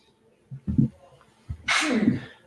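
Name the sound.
sneeze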